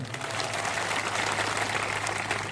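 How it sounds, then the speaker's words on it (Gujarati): A crowd at an outdoor political speech in Naswadi, Gujarat, gives dense, steady clapping that runs evenly for a couple of seconds at a moderate distance, with a low hum underneath. "યુવાનો અને ભૂલકાઓ બધા માટે એકવાર જોરદાર તાળીઓ પાડી લઈએ આપણે"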